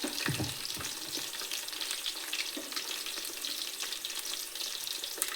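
Cauliflower florets deep frying in oil, a steady dense sizzle and crackle that runs throughout at close range, with a few louder pops near the start and no voices.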